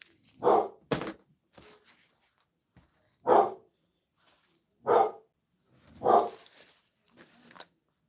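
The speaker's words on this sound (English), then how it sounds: "Why is this dog barking?" A dog barks five or six times in separate bursts with pauses between, fairly close and clear, with no other sounds around it.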